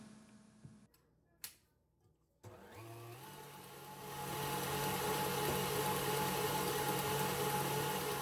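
Electric mixer whisking cream in a bowl to make homemade butter; after a few faint clicks and taps it starts up, runs at a steady whir, then climbs to a louder, higher-speed hum.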